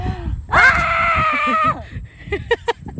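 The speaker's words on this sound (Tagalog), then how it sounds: "Ang sarap sumigaw" Piercing shared scream from people by the Abulug River in Cagayan Valley, one long loud sustained cry that breaks off, followed by brief shouts and voices.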